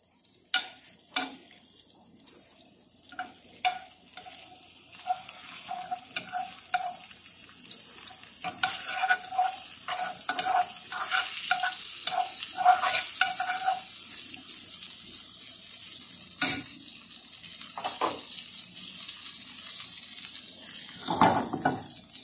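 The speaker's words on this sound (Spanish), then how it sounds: "Ya que nuestra mantequilla se derritió" Two tablespoons of butter melt and sizzle in a heated frying pan, a soft crackling hiss that builds and holds through the middle, with intermittent clinks and scrapes of a utensil against the pan.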